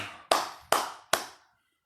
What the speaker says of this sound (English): It's clapping at Bruce Buffer.